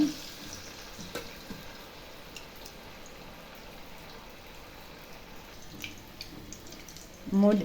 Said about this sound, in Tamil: மீடியம் ஃப்ளேமில் வச்சுட்டு இந்த மாதிரி நல்லா கிறிஸ்பியாக வர அளவுக்கு பரட்டி விட்டு வேக வச்சு எடுத்துக்கலாம்